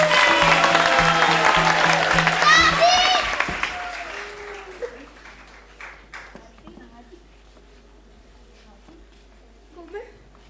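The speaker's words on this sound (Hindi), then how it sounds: "तो इसी बात पे इन बच्चों के लिए जोरदार तालियां" A loud burst of clapping with voices talking over it dies away after a few seconds, leaving scattered quiet sounds.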